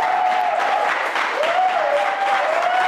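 Applause from a studio audience for Pamela Watara on a quiz show, a steady wash of clapping with a sustained tonal whine running through it, fairly loud and unbroken.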